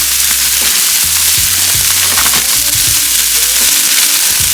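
Rice and onions fry in oil in a pan with a loud, constant sizzle, and occasional scraping and knocking of a utensil sounds underneath.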